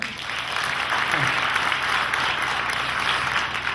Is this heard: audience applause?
yes